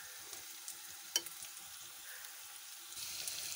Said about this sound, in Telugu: క్యాప్సికమ్ ముక్కలు ఇలా మెత్తగా వేగే వరకు వేపాలి